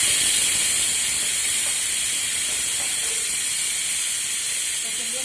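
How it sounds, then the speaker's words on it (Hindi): Onions browning in a hot pan in a home kitchen, a loud, steady hiss of sizzling oil that carries on evenly without pause. "तो प्याज को ब्राउन कर लेना"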